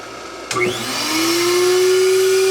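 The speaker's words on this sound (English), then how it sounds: "So I'll come over here to my vacuum, turn the vacuum on." A shop vacuum switched on to draw air through a seed-sowing plate in a greenhouse: a click, then the loud motor whine rising in pitch and settling into a steady, close drone.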